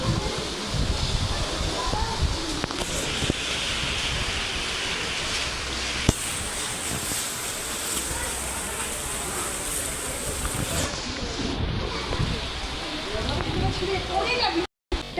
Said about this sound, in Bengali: প্রচণ্ড বৃষ্টি মানে মুসুলধারে বৃষ্টি